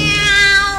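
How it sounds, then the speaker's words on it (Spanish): A cat meows, a drawn-out tonal cry lasting just under a second, sung within a musical number about London's many languages; a steady pitched sound fills the clip with no speech. "Gatos hartos de maullar"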